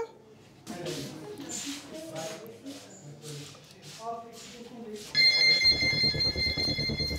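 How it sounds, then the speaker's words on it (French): Portable hospital pagers beep an alert, a steady tonal electronic beeping that starts loud near the end, after a stretch of talking voices. "Les bips portatifs indiquent là où ça se passe."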